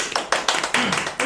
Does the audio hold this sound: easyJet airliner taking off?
no